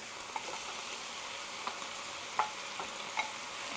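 Seafood sizzles and hisses steadily in a hot pan for dry tom yum, with occasional soft scrapes and clinks as it is stirred, close and fairly quiet with no voices.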